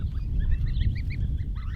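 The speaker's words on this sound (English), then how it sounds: "I just wanted to introduce you to my new geese." Several geese honk in short, repeated nasal calls, close and fairly loud over a low rumbling background, with the honks overlapping in a quick sequence.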